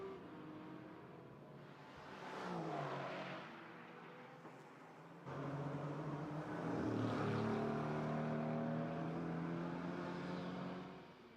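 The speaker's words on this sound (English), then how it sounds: "Get the feeling the Mercedes is kind of the right car around here, all that grunt from the big front engine beast" Mercedes GT4 race car lapping the Jeddah street circuit, its big front-mounted engine heard at a distance rising in pitch as it accelerates and changes gear, a continuous droning roar that swells over the passage.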